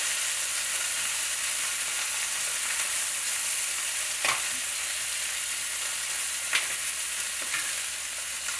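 Chicken drumstick and wing sizzle and fry steadily in a pot, a continuous bright crackle with a couple of soft clinks and stirs.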